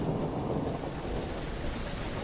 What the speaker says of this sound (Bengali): জোরে জোরে বাজের শব্দ হতে লাগল, আর সেই সাথে নামল মুষলধারে বৃষ্টি